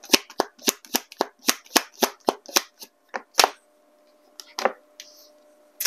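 A deck of relationship design oracle cards shuffled close up, giving a quick run of crisp slapping riffles followed by a few softer card draws and handling sounds.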